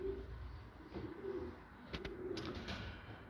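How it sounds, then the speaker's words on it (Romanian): Soft cooing of racing pigeons, a few low murmuring calls close by, with some brief rustling or flapping noises in the background. "Sunt porumbei de viteză între ei."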